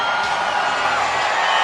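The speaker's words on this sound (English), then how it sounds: "Listen to that crowd." A New Year's Eve crowd packs Times Square in New York City, its massed voices forming a loud, steady roar with scattered whoops, far-off and continuous, as midnight draws near.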